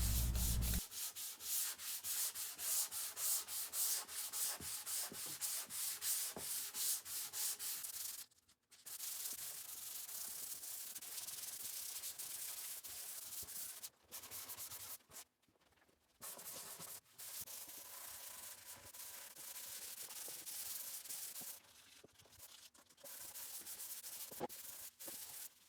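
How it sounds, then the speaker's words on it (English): Continuous scratchy rubbing of hand sanding on a live edge wood coffee table, back-and-forth strokes with a few brief pauses, close and steady. "A lot of hand sanding now."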